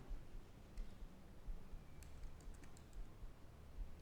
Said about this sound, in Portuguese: Então começa a digitar ali